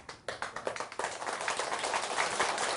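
An audience applauds at a Buddhist monk's dharma talk, starting with a few scattered claps and swelling into steady, dense clapping that fills the room.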